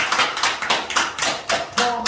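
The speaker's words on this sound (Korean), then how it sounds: "박수." A small group of people claps at a casual gathering, a short burst of quick, close, sharp hand claps that thins out within about two seconds.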